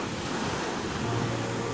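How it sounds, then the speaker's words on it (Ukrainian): Sea waves wash onto the shore at Odesa on a stormy day, a steady broad roar of surf with wind noise across the microphone, continuous and fairly loud, with no voices. "на протязі нашої прогулянки десь більші хвилі, а десь менші, а десь прямо такі"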